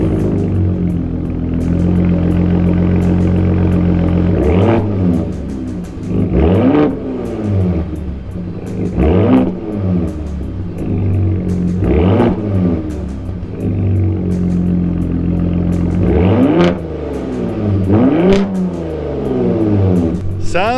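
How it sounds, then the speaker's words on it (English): Ford F-150 Raptor EcoBoost V6 in a 2021 SuperCrew truck, revved repeatedly from idle in several rising and falling bursts with a deep exhaust rumble, loud and close, with talk between revs. "so I'll rev the engine a little bit so you can hear how it sounds"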